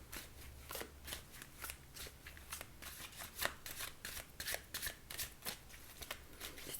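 Tarot cards are shuffled over and over in quick riffling bursts, quiet and close, with no talking.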